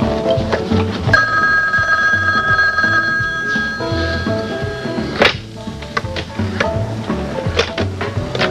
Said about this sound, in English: A phone call, and the civil service springs into action.